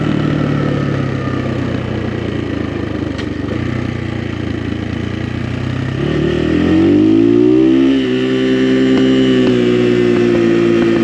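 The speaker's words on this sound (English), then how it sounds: "You can hear the popping and cracking. That's not backfire." An XPro Templar 250 dirt bike engine drones steadily and loud at close range, then revs up into a rising, throaty pull before settling at a higher, even pitch; no voices are heard.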